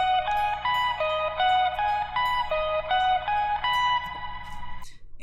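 Four-note guitar lick from a song, repeated in a steady looping pattern with a clean, slightly reverberant tone, played alone before a soft handling noise at the end.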